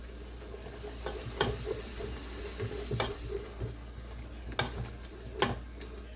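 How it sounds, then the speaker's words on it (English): Milk and black pepper being stirred slowly into a sizzling pan for a creamy alfredo, a soft continuous fry hiss broken by occasional spoon taps and scrapes, close and fairly quiet. "2 cups of milk. We're gonna stir it in slowly."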